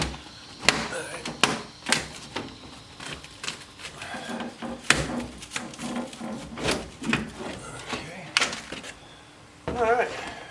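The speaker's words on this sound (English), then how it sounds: "Got the door panel off." A door panel is pried off a 1964 Ford Falcon during interior restoration: a series of sharp clicks, pops and creaks of trim clips releasing, with scattered knocks and rustling close by.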